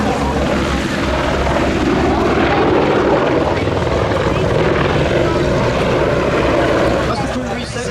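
An Apache attack helicopter at an air festival display gives a loud, steady rotor roar that fills the whole stretch without a break, easing slightly at the very end.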